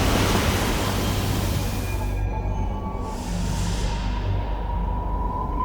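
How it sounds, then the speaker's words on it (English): Pulsing water churning at the source of the Geysir geyser in Iceland, a steady broadband rush like surf that holds loud throughout with a slight dip midway, with no voices. "the pulsing water from the geyser's source just teases an upcoming"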